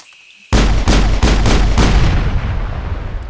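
Heavy weapon fire in the video game Mass Effect: a sudden loud blast followed by four rapid booming shots in a steady rhythm, then a long rumbling decay, close and powerful with no talk.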